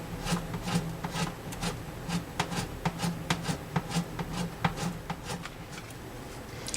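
Semi-chrome polish is rubbed over a guitar's finish, making a quiet, close scratchy rubbing in quick repeated strokes without talk.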